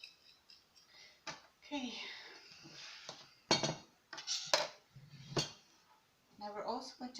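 A utensil stirs chicken chow mein in a pan, giving scattered close clinks and scrapes, while a person speaks briefly partway through.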